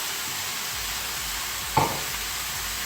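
Onions sauté in a pan for Kuttanadan duck curry, a steady close hiss of frying that runs throughout, broken once by a single short utensil clank partway through, with no one speaking.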